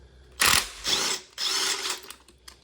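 An impact wrench works loose a 16 mm motor mount bolt on a Mini Cooper S R53, firing in three loud close bursts of rattling hammering with short gaps between.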